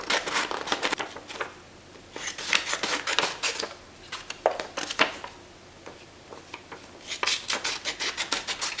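Scissors cut an image out of a magazine page, giving irregular bursts of crisp snipping and paper rustling up close. The bursts are broken by brief pauses, with no talking.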